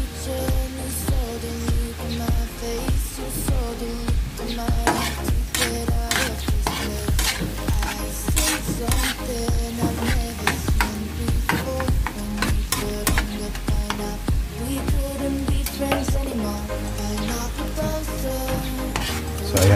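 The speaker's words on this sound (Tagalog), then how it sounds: "Halu-haluin lang natin yung garlic hanggang sa medyo mag golden brown siya" Garlic frying in butter for spicy garlic butter shrimp hisses steadily while a utensil stirs and clacks against the pan in a quick, continuous rhythm, close and fairly loud.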